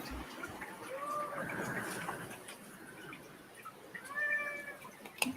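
A pet cat meows indoors in two short, faint calls separated by a few seconds, set against quiet room noise.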